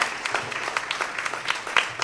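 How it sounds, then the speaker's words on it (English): A scatter of hand claps from a small group at a quiz competition, brief and fairly quiet, fading in and out over a couple of seconds. "one special round of applause for Team A"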